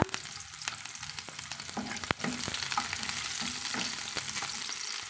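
Chopped small onions fry in hot oil with popped mustard seeds, a continuous sizzle with intermittent stirring scrapes and small crackles, close and fairly quiet.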